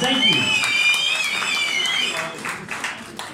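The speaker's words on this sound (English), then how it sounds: "Let's give them a round of applause." Audience applause at a movie premiere at the V&A Waterfront in Cape Town: a steady patter of clapping runs throughout while someone speaks over it, then it thins out toward the end.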